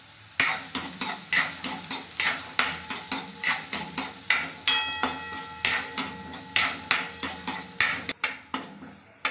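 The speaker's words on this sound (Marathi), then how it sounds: "याचा रंग लाल येईपर्यंत आपल्याला परतून घ्यायचा आहे कांदा" Chopped onion sautéed with cumin in a pan for a burger filling: a spoon knocks and scrapes against the pan in a steady, quick rhythm of about two strokes a second, close and clear.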